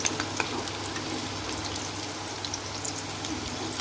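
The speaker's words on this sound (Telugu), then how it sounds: "కాబట్టి ఇవి గోల్డెన్ బ్రౌన్ కలర్లో వచ్చేంత వరకు బాగా వేయించుకోవాలి." Onions for chicken biryani frying in oil toward golden brown, a constant crackling sizzle with scattered pops, moderately loud and close.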